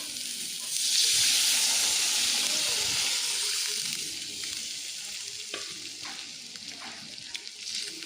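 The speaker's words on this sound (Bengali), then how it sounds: "এবার এটার মধ্যে দিয়ে দিব আমি পরিমাণ মতন জল।" Water poured onto hot, oil-releasing masala for a pomfret curry sets off a loud, bright hissing burst that swells early then gradually settles into a softer bubbling sizzle with faint stirring clicks, close up, no talking.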